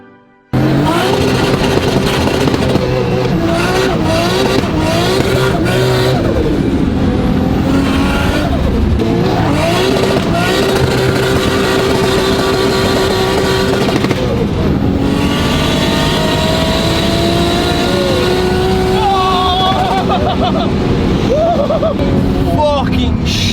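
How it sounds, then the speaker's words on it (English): A BMW E30 fitted with a 2JZ engine revs hard and spins out. The loud engine note rises and falls continuously for over twenty seconds, and voices can be heard over it. "the car just literally just spins out"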